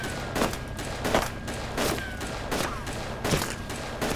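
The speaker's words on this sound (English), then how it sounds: "Are they shooting at you or are they shooting at me?" Repeated bursts of gunfire from the video game DayZ Overpoch, about six sharp volleys at a steady rhythm, loud and close over a constant background hum, with no talking.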